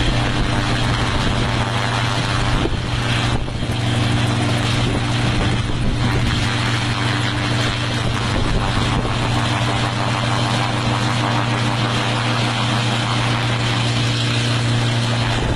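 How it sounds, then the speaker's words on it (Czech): A small improvised homemade propeller aircraft, built from scrap and driven by a chain from the engine, comes in to land: a loud, steady engine and propeller drone runs unbroken throughout, with no voices. "The aircraft successfully takes off, but when it tries to land, this is what happens."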